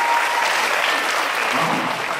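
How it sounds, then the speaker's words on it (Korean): Dense, steady applause from an audience at a Catholic night event at Catholic Sangji College, a continuous wash of many hands clapping without letup and no voices on top. "큰 박수 부탁드리겠습니다."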